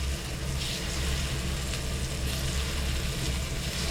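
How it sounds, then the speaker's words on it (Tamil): Boiled plantain pieces fry in hot oil for a vegetarian fish-style curry, giving a steady, soft sizzle and crackle that carries evenly throughout without any talk. "வாழைக்காவெல்லாம் நம்ம வறுத்து எடுத்துக்கலாம்."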